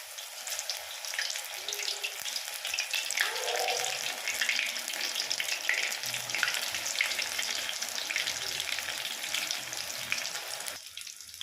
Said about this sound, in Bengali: একইভাবে আমি এই পকোড়াগুলোও ভেজে নেব।